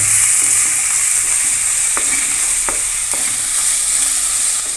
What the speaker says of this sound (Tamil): இப்போ எல்லாம் மூணுத்தையும் ஒன்றா நல்லா மிக்ஸ் பண்ணி வதக்கிக்கிங்க